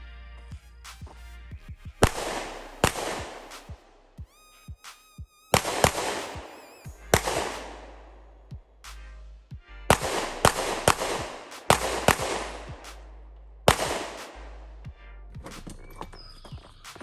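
Repeated loud gunshots from a Canik TP9 Elite SC 9mm pistol, fired in several rapid strings of close, sharp cracks, each string separated by short pauses.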